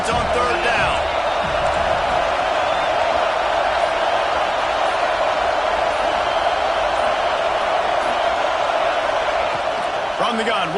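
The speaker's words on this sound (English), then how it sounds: "Decibels rising as the crowd gets behind this defense on third down." A stadium crowd roaring on third down in an American football video game, a dense, sustained wall of cheering noise at steady loudness throughout with faint whoops near the start.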